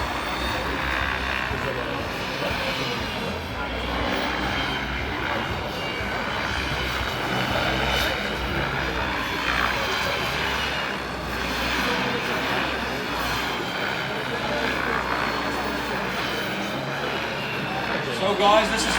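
A turbine-powered X-Cell RC model helicopter flies 3D aerobatics, its steady turbine whine and rotor roar holding loud and continuous throughout, with slight swells as it spins and maneuvers.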